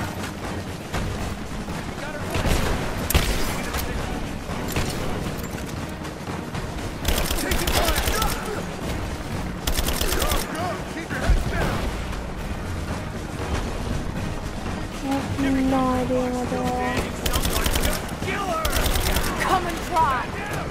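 Rapid bursts of gunfire in Rise of the Tomb Raider, loud volleys of shots coming in clusters across a long battle, with shouted voices and other combat noise between the bursts.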